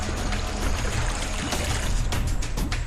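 River water rushes in a continuous, dense wash with splashing surges, loud and close throughout, with no voices over it.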